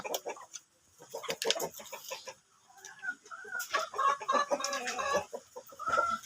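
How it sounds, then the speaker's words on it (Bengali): Several native Bangladeshi hens cluck nearby in short, repeated bursts, with brief murmured talk in the first few seconds. "আমার দেশি মুরগিগুলো রাখা আছে এখানে"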